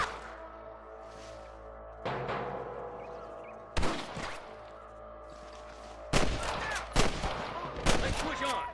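Gunfire in the Western shooter Red Dead Redemption, with separate sharp shots and short volleys spaced across the scene over a steady low background hum, and voices shouting between them.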